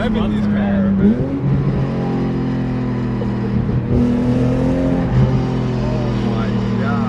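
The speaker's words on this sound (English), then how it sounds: "Just keeps revving these cars" A BMW M5 E60 with its V10 engine revs from inside the car, a loud steady drone with pitch rising and dipping through several rev changes, with people talking over it.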